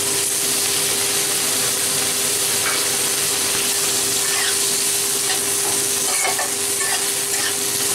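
Onions frying with ginger-garlic paste and chopped tomato, stirred in a pan: a steady loud sizzle with scraping stir strokes throughout, no talk.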